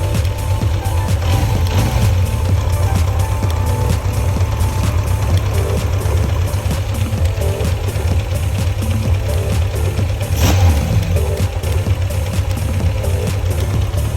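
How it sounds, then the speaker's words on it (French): Motorcycle engine idling steadily after carburetor synchronisation, a loud, even low exhaust rumble held close and constant for the whole stretch, with no voices. "On entend l'échappement, hein, c'est équilibré."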